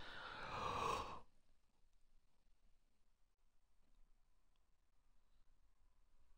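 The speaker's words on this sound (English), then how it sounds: "Oh, had a yawn there." A single human yawn, a breathy exhale lasting about a second, close and fairly loud, followed by near silence.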